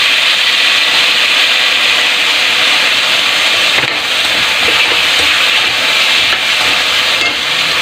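Pinakbet vegetables sizzling in a pan as fish sauce is added, a loud, steady hiss with faint scraping and stirring throughout, no voices over it.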